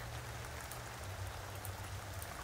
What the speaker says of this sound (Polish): Wiem, że pada